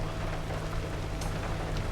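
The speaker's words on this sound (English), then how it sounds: "Here comes the rain again." Rain in the video game Pacific Drive, a steady, even hiss of falling rain with a low hum underneath and a brief bright tick near the end.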